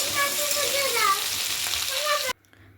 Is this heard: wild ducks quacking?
no